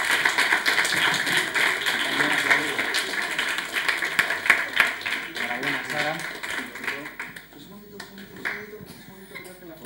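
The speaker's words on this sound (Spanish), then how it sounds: "Un aplauso para Sara." Applause at a Christmas greetings contest award ceremony, a crowd clapping steadily then thinning toward the end, mixed with voices and talk close by.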